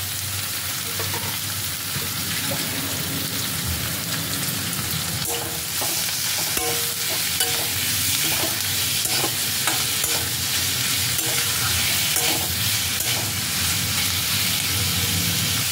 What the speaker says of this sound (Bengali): পেঁয়াজটা তেলের মধ্যে একটু ভেজে নেওয়ার পর এর মধ্যে আমি দিয়ে দিচ্ছি নুন হলুদ মাখিয়ে রাখা চিংড়ি মাছগুলো